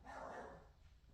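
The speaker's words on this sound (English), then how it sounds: "my dog's barking" A pet dog barks once, a short, muffled woof heard from some distance in an otherwise quiet room.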